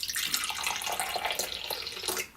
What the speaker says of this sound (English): So I'm putting some pineapple juice in.